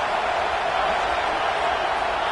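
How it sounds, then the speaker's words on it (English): Dense, steady stadium crowd roar at a college football game between Missouri and Clemson in a video game, a continuous loud wash of noise with no breaks. "Listen to the crowd energy here in the early going."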